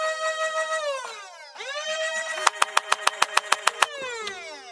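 An X-Shot toy foam blaster's battery-powered flywheel motor whines up in pitch, drops, then spins up again with a rapid series of sharp rhythmic pulses before winding down, close and fairly loud.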